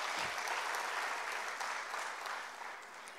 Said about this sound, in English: Please clap for Ms. Anne Reisman.